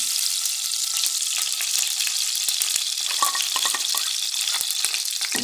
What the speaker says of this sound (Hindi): ये देखिए हम लोग देसी घी का भगार दे रहे हैं।